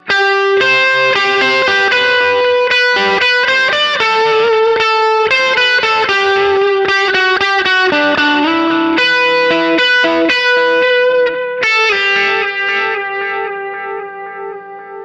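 Electric guitar played through stacked Broadcast and Savage overdrive pedals, thick distorted chords and sustained notes ringing loud and close, with a slight chorus-like shimmer and no talking.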